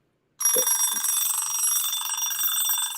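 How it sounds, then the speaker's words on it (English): A vintage alarm clock rings loud and close, its bell clattering in a continuous rapid buzz that starts abruptly and holds steady, with no talking over it. "Let's go ahead and listen to the alarm, and then we can counter down. I bet it's loud."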